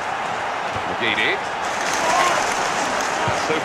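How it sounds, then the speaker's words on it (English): Football crowd at a match cheering and applauding together, a loud continuous wash of claps and roars with a commentator's voice over it. "The crowd absolutely adored that."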